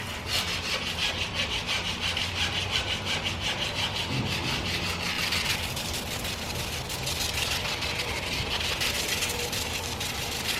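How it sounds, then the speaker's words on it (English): Steady, continuous sanding of a curb-rashed aluminum wheel on a BMW E90 335i with 150 grit sandpaper, a loud rasping scrub that runs without pause and with no talk. "I'm going to start sanding it a bit now"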